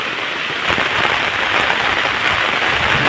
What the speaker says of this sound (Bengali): অবশেষে ঝেঁপে বৃষ্টি নামলো।